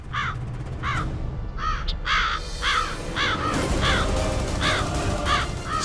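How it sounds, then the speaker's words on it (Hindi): A crow caws about ten times in an even, repeating rhythm, clear and fairly close, over a constant wash of outdoor background noise. "ये कौवा कहाँ से आ गया?"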